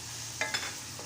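Boiled boneless chicken pieces being stirred into colorful Mexican rice in a pan, giving two brief scraping, sizzling strokes over a quiet, steady background.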